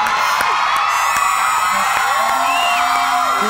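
A Thai game-show studio audience screams and cheers in a dense, continuous wash of high-pitched shrieks and whoops, loud and sustained throughout, with brief shouted voices over a background of music.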